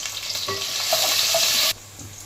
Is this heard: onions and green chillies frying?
yes